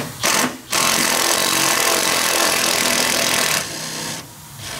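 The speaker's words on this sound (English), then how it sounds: "Tighten that one real fast to try to get this one out of a bind. That way I don't break this socket" A power tool, probably an impact wrench, runs in a steady loud whir and rattle while tightening a bolt close by, after a brief first burst, then stops, with no talking.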